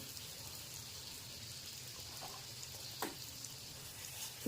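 Puris deep-frying in hot oil over a full flame, a soft steady sizzle running throughout with faint crackles and a small pop near the end.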